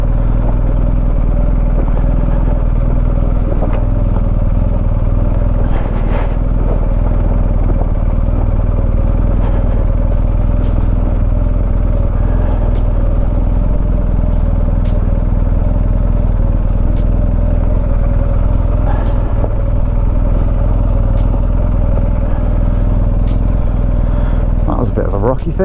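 An off-road motorcycle moves slowly down a steep rocky decline, its engine giving a steady low drone close by, while tires and gear clatter over stones and a rider talks over it.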